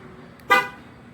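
A car gives a single short horn chirp as it locks with a replacement keyless entry remote fob, close and brief against a quiet background.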